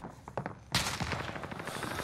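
Shotgun fire in a video game: a single sudden heavy blast followed by a sustained loud rumble of game noise.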